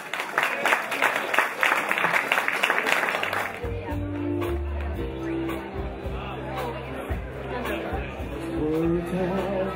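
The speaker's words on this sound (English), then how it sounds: "Let's give a big round of applause." Wedding guests clap and cheer loudly for a few seconds, a dense burst of applause that then fades under crowd chatter as music starts up in the reception hall.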